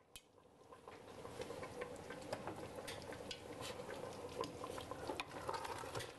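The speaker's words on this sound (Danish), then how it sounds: "Her i gryden, der står det stille og roligt og simrer." Indian chicken curry simmering in a pot with a steady bubbling, faintly sizzling texture and scattered small pops and clicks, continuous and close throughout.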